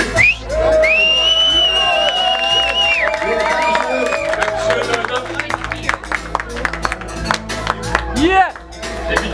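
Crowd at a live rap show in a small harbour pub in Hanau, cheering, whooping and whistling loudly and continuously alongside applause, with a voice shouting over the noise throughout.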